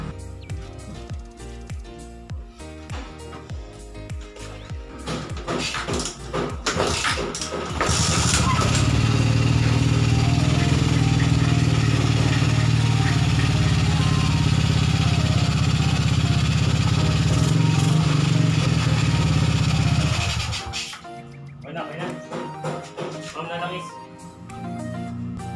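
Suzuki Shogun motorcycle with a rebuilt 57mm big-bore block starts up after work sounds and settles into a loud, steady idle for about twelve seconds, then cuts off as workshop clatter resumes.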